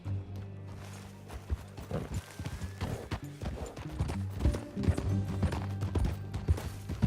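Steady clip-clop of horse hooves at a walking pace in Red Dead Redemption, fairly close, with a low rumbling backdrop and occasional soft thuds.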